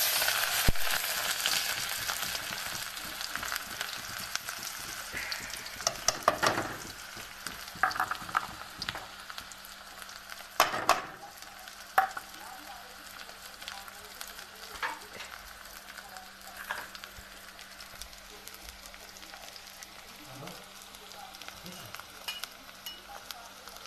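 Green chili, garlic and onion sizzle in hot oil in a home kitchen, a steady broadband fry with occasional crackles and clatter, moderately close, with faint background voices in places.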